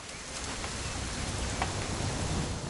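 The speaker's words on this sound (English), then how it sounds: "It's gonna rain the whole weekend, isn't it?" Continuous rain falls in What Remains of Edith Finch, a soft, even wash of drops striking surfaces, with a faint closer splash now and then and no talking.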